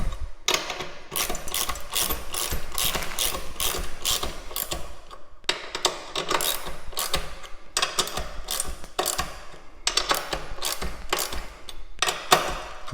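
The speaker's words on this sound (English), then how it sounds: "providing leg support upward as we tighten those top" A ratchet wrench tightens the top bolts on powder-coated pinball machine legs, sounding as bursts of rapid clicking in repeated runs with short pauses between, close and fairly loud.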